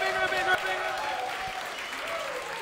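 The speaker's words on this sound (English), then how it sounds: "When you cheer, when you clap, we need to hear it bigger" An audience at a spring dance recital cheers and claps, a steady wash of applause with voices mixed in, lasting the whole stretch.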